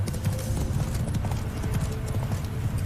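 The horse Roach trots in The Witcher 3, a quick, steady clip-clop of hooves close up, running continuously over a low rumbling game background.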